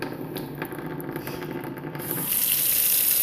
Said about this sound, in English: Show you the stream here.